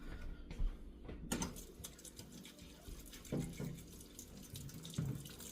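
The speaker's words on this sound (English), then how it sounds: "Let me rinse my hands." Water running from a kitchen tap as hands are rinsed, a continuous splashing stream with a few louder bursts and knocks, close and fairly quiet.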